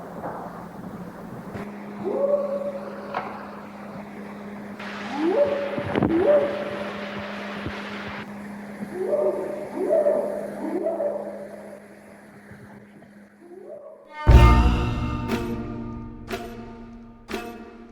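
Deep, powerful whooping calls from an alleged bigfoot in a Sierra forest rise in pitch, repeating in spaced bursts over a steady low hum. A loud, sharp burst of noise near the end is followed by several fainter knocks.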